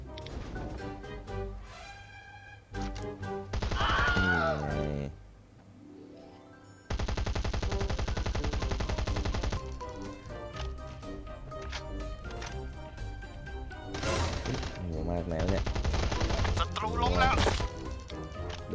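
Gunfire in the survival video game Last Island of Survival comes in several sharp rapid bursts, some loud and near, separated by quieter stretches of game sound while a voice talks at times.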